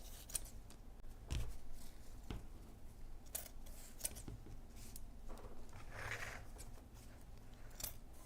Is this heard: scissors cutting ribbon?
yes